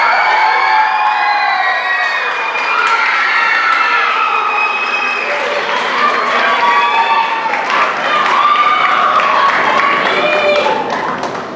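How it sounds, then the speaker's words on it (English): An audience at a Durango High School choir spring concert gives loud, sustained applause mixed with cheering and shouts from the crowd, filling the hall steadily for about eleven seconds. "Can we give a round of applause for Sandra Pierce?"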